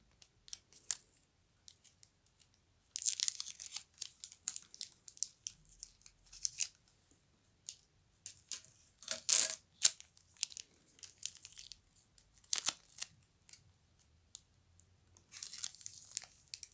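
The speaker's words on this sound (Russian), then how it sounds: "Все это дело сцепляем скотчем." Adhesive tape is pulled and torn while binding a fruit bouquet of persimmon and apples, with sharp, close ripping bursts and crinkling scattered between quiet gaps.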